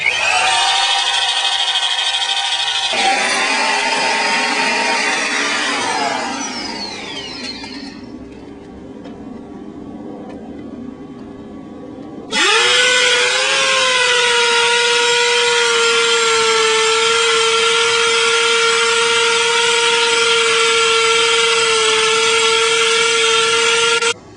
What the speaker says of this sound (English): so you'll drill into the concrete